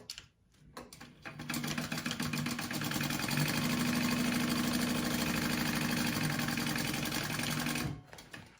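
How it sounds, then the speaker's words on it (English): Sewing machine stitching two fabric wallet pieces together, a steady loud whirring run of about seven seconds that starts and stops cleanly, with no voices. "I'm going to sew these two bottom pieces together to close up my pocket."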